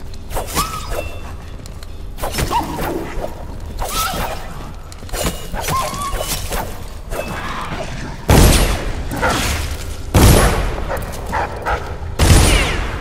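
A guard dog attacking in the stealth video game Dishonored, with repeated loud barks, yelps and snarls in bursts alongside clanging sword strikes and combat noise over a continuous game soundscape.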